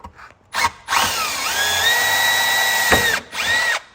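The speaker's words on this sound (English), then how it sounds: "Again, just tap through the urethane bumper." A power drill bores through the urethane bumper of a Tesla Model 3 while a front lip splitter is being fitted, with several close, loud whining bursts of differing length and short pauses between them.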